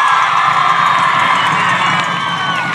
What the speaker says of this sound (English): So as you can tell, we got a hell of a crowd for the homecoming.